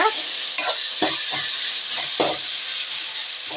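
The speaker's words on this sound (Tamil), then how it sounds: "இப்போ இதுவும் நல்லா வதங்கிட்டுங்க." Ingredients sauté in a hot pan, giving a continuous loud sizzle broken by several short scraping stirs of a spoon, close up and with no talking.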